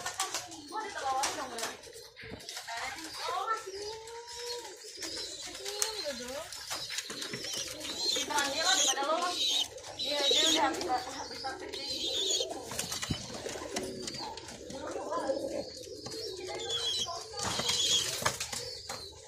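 Pigeons, a breeding pair kept by bird fanciers, coo and flutter at close range throughout, with soft calls and wing flaps mixed under steady talk.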